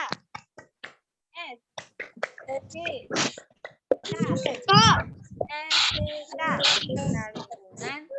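Primary school pupils in a fourth-grade class on Zoom chant a rhythmic clapping cheer together, with sharp hand claps and voices mixed throughout, loud and busy, with a teacher's voice around it.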